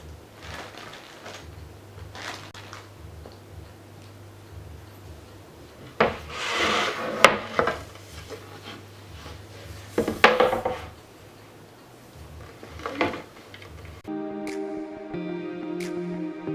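Wooden dowels handled in a craft room, giving intermittent woody clatters and rubbing knocks with louder bursts midway, over a low hum; a short stretch of steady tonal music closes it out.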